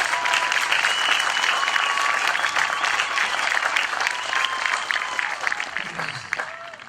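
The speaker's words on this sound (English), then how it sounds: "let's give them a round of applause as well" Large audience applauding at an outdoor high school graduation ceremony on a football field, a steady dense roar of clapping that holds for several seconds before easing slightly at the end.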